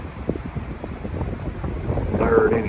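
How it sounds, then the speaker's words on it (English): Wind gusting through a small historical 1800s covered bridge in Georgia, a steady rumbling buffet on the microphone, loud and close, with a voice talking over it. "Got a lot of wind blowing through here today, so hopefully my audio is going to be okay."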